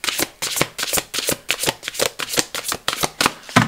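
A deck of Oracle de la nature sacrée oracle cards being shuffled by hand up close, a brisk regular run of about a dozen papery riffling bursts, each a quick flutter of cards, with no talking.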